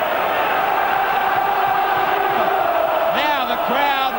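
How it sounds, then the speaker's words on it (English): Rugby league crowd at Hull roaring for the home side against Australia, a steady loud wall of cheering and chanting with a few shouts and whistles rising near the end. "Now the crowd are really getting behind their side."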